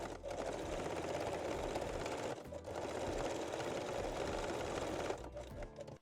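Bralette straps are sewn in place on a sewing machine, which makes a continuous, fairly quiet mechanical hum with one short break before tapering off at the end.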